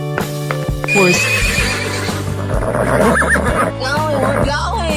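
A horse whinnies loudly in a 3D animal slide video game, a shrill neigh mixed with hoof clip-clops over bouncy game music.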